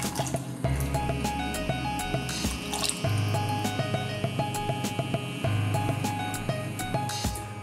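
Water is poured into a pot of melting coconut oil while making cannabis-infused coconut oil, a steady trickling, dripping flow close by over a low, constant hum from the stove.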